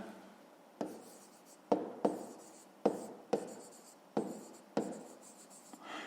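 Chalk or pen strokes writing out a fifth-grade maths solution, a series of about eight sharp taps and scrapes in an irregular rhythm, close and fairly quiet with no talk.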